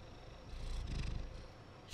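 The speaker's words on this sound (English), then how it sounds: "He's a little purr machine." A pet cat purring up close, a soft rumbling purr swelling for about a second before a sudden bump at the end.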